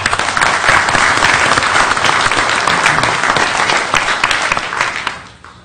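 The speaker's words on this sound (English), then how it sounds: "Give them a big round of applause." Loud, sustained applause from a sizable audience at a city council meeting, continuous clapping that fades out toward the end.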